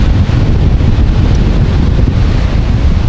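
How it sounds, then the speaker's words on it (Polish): Strong wind buffets the microphone on a Baltic beach at Dębki, a loud continuous rumbling roar with gusty flutter and no pauses, mixed with a broad hiss that may carry surf. "Trochę wiaterek jest, co?"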